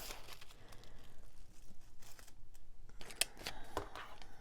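Scissors trim the edge of a diamond painting canvas, a quiet run of crisp snips and papery crinkles, with a few sharper clicks of the blades near the end.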